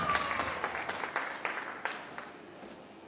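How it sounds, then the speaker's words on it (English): A small room audience gives a faint round of applause for a girl at a stage show, with scattered distinct claps ringing out at an uneven rhythm against a quiet background. "Can I give Faye a massive round of applause because you ran all day?"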